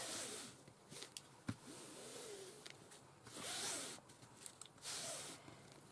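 Scissors trimming journal material all the way around, heard as quiet, close rasping cuts that come in several separate bursts with short pauses between them.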